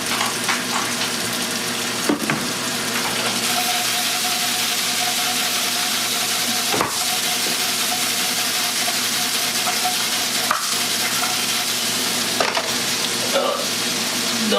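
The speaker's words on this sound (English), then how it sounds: "So potatoes are going in, then we're gonna chop that stuff down, but first hit it with a little salt and pepper and stir that around" Potatoes seasoned with salt and pepper fry loudly in a pan, a dense continuous sizzle under a low hum, with a few sharp scrapes and knocks of stirring.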